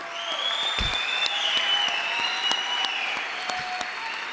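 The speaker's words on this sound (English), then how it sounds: "Now is the time to give them a big round of applause." Sustained applause from a graduation audience at a 2022 high school commencement ceremony, steady dense clapping throughout with a few sharper individual claps, fairly near and without talk.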